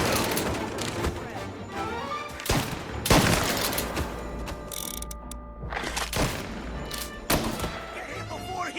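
Bursts of gunfire in Mafia: Definitive Edition crack out in several loud volleys, mixed with mechanical clatter and thunks, with pauses between the shots.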